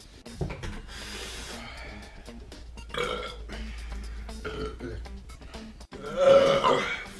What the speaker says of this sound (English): I just can't stop burping, man.